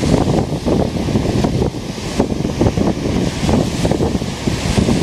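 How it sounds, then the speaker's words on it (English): Lake Superior waves crash steadily and loudly against the shore near Grand Marais, Michigan, under strong wind buffeting the microphone, a continuous rough roar with repeated surging breaks. "Those waves are getting pretty big out there right now, and as the wind picks up as the day goes on, they're going to get larger yet."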